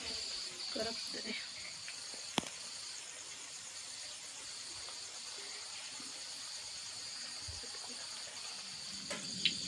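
Alu vadi, colocasia leaf rolls, fry in hot oil with a faint, steady, crisp sizzle and an occasional sharp click.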